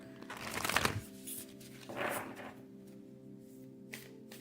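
A deck of tarot cards is shuffled close by in a quiet room, with two distinct riffling bursts followed by a softer flick, each brief and crisp.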